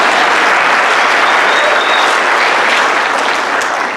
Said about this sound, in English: You can clap for Luke.